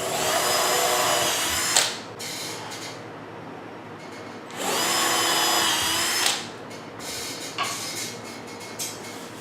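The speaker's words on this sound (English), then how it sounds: "pre-drill out the holes for the mounting screws on the top" A power drill with a 1/8 inch bit pre-drills mounting screw holes for a golf club coat rack, whining loudly in two sustained bursts of about two seconds each, separated by pauses filled with handling noise.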